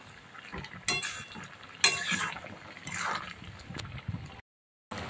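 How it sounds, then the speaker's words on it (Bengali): Stirring fried bitter gourd into boiled vegetables for Bengali shukto, with soft clinks of a spoon against the pot and faint wet scraping, a few sharper knocks, and a brief silence near the end. "দিয়ে একটুখানি নাড়াচাড়া করে নিলাম"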